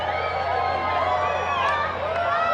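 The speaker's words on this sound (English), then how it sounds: "Crowd's getting excited." A large crowd gathered outdoors for the 2024 total solar eclipse builds into an excited roar of cheering and whooping voices, steady and dense throughout.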